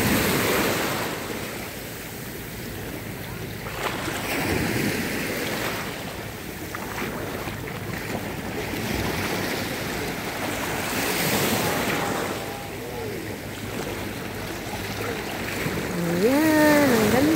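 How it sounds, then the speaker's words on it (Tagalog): Large ocean waves surge and wash ashore at a beach resort, a continuous near roar of surf with wind buffeting the microphone and brief faint voices in the background. "Uy, ganda ng alon eh. Laki. Ang laki ng alon."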